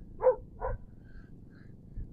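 Two short dog barks close together in an outdoor campground gathering full of family dogs, followed by faint background noise and distant high chirps.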